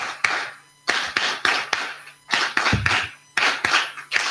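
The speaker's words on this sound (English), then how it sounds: "So you clap 5 and then 4, 3, 2, 1." Audience in a university hall doing a counting clap routine, sharp unison claps in descending groups separated by brief pauses, loud and close.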